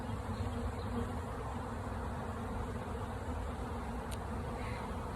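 Honeybees from a freshly installed package swarm around a hive entrance outdoors, a continuous soft droning buzz that stays even and low in level throughout, with no voices.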